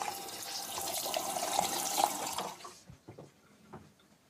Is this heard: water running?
yes